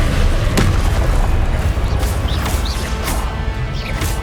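A Confringo fire-blast spell in the Hogwarts Legacy video game erupts in a loud, booming explosion, with a sharp crack near the start and rumbling bursts and crackles continuing through the rest.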